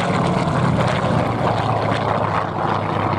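Historic single-row-engine propeller aircraft flying at an aviation fair in Pardubice, a loud, steady droning engine roar that holds constant throughout with no talk.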